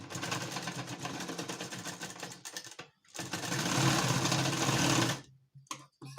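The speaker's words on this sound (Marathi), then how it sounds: "आता आपण हा टक्स मारून घेऊ" Sewing machine stitching tucks into fabric for a katori blouse, a steady dense motor whir in two long runs separated by a brief pause, ending with short bursts, close and loud.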